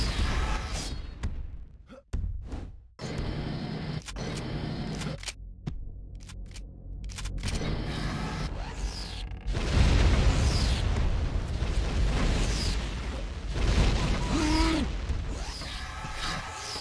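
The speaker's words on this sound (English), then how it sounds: "Scorpion missile launcher" Scorpion tank missile launcher in Halo firing and detonating, a run of sharp booms and bursts with rumbling blasts, loud and close, with chaotic battle noise between the impacts.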